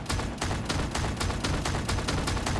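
Rapid repeated gunshots from a gyroscope-equipped weapon in a video game, loud and close, about four shots per second in an even, dense rhythm throughout.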